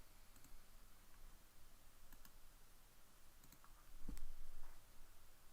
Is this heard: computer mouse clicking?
yes